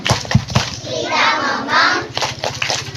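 Schoolchildren in a classroom clapping a patterned chant together, sharp sets of claps followed by a chorus of voices and more quick claps, close and loud.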